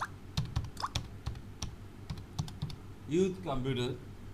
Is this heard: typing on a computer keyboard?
yes